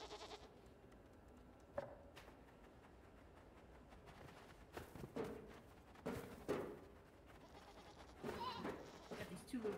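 Goats bleat several times in the video game Blanc, faint and scattered among quiet clicks and shuffling, with a voice speaking now and then.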